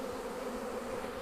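Honey bees hum steadily on hive frames during honey pulling, a dense continuous buzz close by, even in loudness throughout with no talking.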